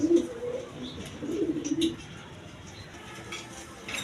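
A pair of satin pigeons coo in two low, soft rolling bursts close by, followed by quieter background noise.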